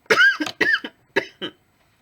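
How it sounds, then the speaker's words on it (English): Someone coughs in a close, harsh series of bursts, two strong hacks followed by several shorter, weaker ones. "Try to avoid coughing it out, but it's crazy."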